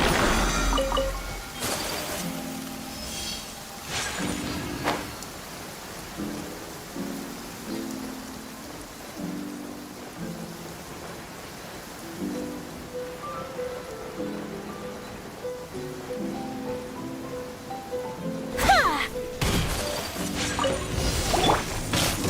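Steady rain patters and splashes in the game Genshin Impact, a continuous soft wash with occasional sharper whooshes and crashes, while faint musical tones sound underneath throughout.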